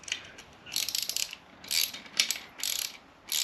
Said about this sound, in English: you want to tighten this pretty tight, because this will stop the brake pipe sliding out